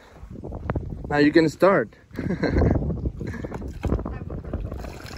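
Wind blows outdoors around a kayaking outing, a steady rumbling gusty noise buffeting the microphone under continuous talk.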